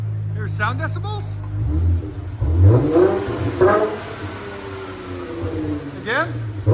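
An aftermarket exhaust on a Dodge Challenger 3.6L V6 rises in a few quick revs over a low idle drone, close by, with voices talking throughout.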